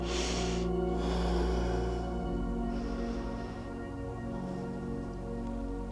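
Slow, deep breaths during a yoga pose with the knees wide and the arms reaching long, each breath drawn in and let out through the nose close to the mic with a slightly snorting edge, and no talking.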